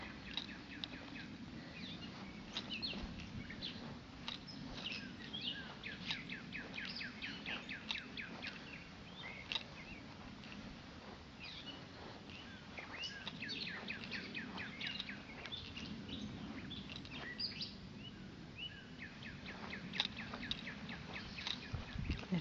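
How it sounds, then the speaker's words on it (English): Several birds chirp and trill repeatedly in Mars Hill Cemetery against a steady low rumble of background noise, with quick rhythmic call bursts recurring throughout. "listening to the birds calling"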